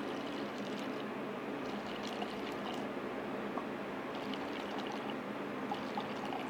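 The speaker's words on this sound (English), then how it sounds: "Pour it in the cup." Red wine poured into a cup as a steady, even stream of liquid, close and continuous throughout with no talking.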